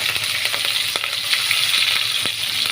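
Chopped green chillies frying in hot oil with cumin and mustard seeds and chana dal for sambar, a steady close sizzle with scattered pops and crackles throughout, no voices.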